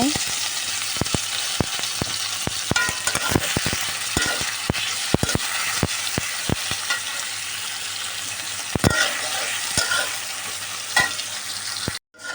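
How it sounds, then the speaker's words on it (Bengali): Onions fry in oil in a pan in a steady, loud sizzle, with frequent sharp scrapes and clicks from stirring running throughout at close range. "এখন আমি পরিমাণ মতন তেল দিয়ে দিব এই পেঁয়াজটার মধ্যে তারপর আমি এই পেঁয়াজটাকে বাদামি রং করে ভেজে নেব"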